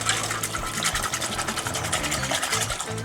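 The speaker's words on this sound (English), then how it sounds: "Then we're just going to whisk that through till all the flour is completely dissolved." Flour being whisked into melted butter and milk for a mac and cheese sauce, a rapid, steady scraping whisk rattling against the pan, close and continuous.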